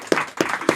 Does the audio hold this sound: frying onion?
no